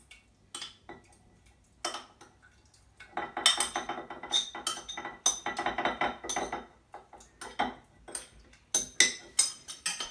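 A spoon clinks and scrapes against a glass jar as flavorings for kefir are stirred in, with quiet scattered taps at first, then a steady run of bright, close chinks.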